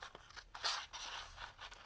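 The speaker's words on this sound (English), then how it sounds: "you just cut this right at the fold" Scissors snip paper right at the fold while a corner page tuck is made, giving a few quiet, close, crisp cuts with short pauses between them.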